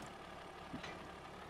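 A tractor engine idles in Farming Simulator 22 as a steady low rumble, faint and even throughout, with no talk.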